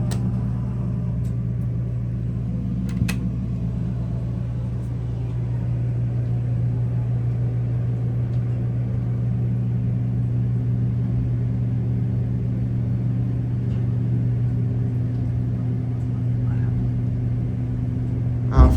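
A ventilation fan runs steadily inside the cab of a Dover Impulse hydraulic elevator at Reed Arena, TAMU, in College Station. It gives a constant low hum and rumble close by, with no pauses, and no one speaks over it.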